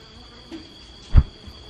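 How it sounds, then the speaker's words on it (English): A large bee buzzes nearby outdoors as a faint, thin, steady drone, broken once by a brief soft thump. "there's a big ass bee behind us"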